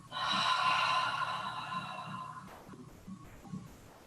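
A slow, deep exhale during yoga breathing, a long breathy rush lasting about two seconds, then quieter soft breath and small rustles, with no talking.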